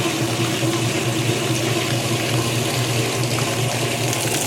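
A Kenmore 80 Series washing machine drains water in a steady, loud gush with a low pump hum underneath, continuing unbroken with no talk.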